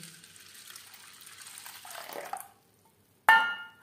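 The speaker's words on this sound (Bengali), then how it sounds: "আর দিয়ে দেব জল" Water poured over 100 grams of washed red lentils in a bowl, a close splashing stream for a couple of seconds that stops, followed by a single sharp clink.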